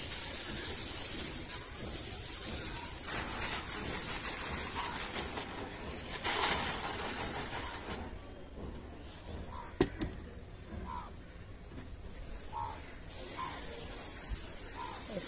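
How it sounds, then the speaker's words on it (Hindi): A hand pump sprayer mists plant booster solution over garden plants, giving a continuous close, loud hiss that runs for the whole stretch with slight changes in intensity and a few faint clicks, without talk. "अब मैं इसको थोड़ा पंप करके अपने सारे जो प्लांट्स है मेरे उसमें"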